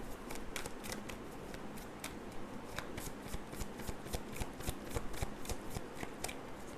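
Tarot cards are riffled and shuffled close up, a rapid series of crisp papery flicks and snaps in steady rhythm, quiet and alone without voices.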